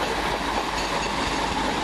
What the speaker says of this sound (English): the 1515 Govia Great Northern service from London King's Cross to Welling Garden City